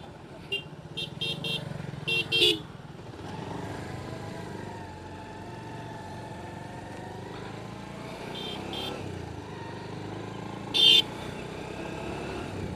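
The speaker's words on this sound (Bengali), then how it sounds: "হ্যাঁ হ্যাঁ, অনেক গাড়ি আসতেছে, ঢুকতে দেয়।" Many vehicles pass on a road near the Jamuna riverbank under a steady traffic drone, with a cluster of short horn toots early on and another single horn blast near the end.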